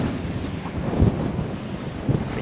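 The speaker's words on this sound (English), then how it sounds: "It's really windy up here." Strong wind buffets the microphone at a crater in Death Valley, a steady rough roar with low gusty thumps, loud and close, with no voices.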